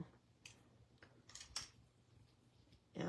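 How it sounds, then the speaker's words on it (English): Scissors snipping beading cord while a bracelet is being made, a few quiet crisp cuts spaced irregularly, close and faint, followed by a louder rustle at the end. "We'll just trim our cord here."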